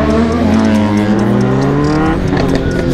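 A BMW S1000RR with a loud SC exhaust rides past close up, its engine a loud, continuous roar whose pitch climbs steadily as it revs.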